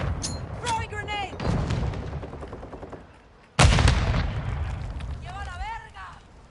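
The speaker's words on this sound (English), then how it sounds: "Throwing grenade!" In a shooter video game, a sudden loud grenade blast lands midway, with bursts of gunfire and game voices talking before and after it.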